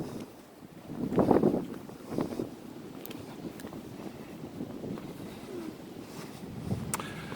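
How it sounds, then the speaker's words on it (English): Strong wind gusts outdoors on a walk along old railroad tracks, a rough broadband roar buffeting the microphone with louder surges, no talking. "as you can hear, it's very windy"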